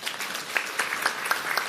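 A church congregation gives a short round of steady applause at a sermon, a dense, even patter of many hands spread through the room, with no voice over it.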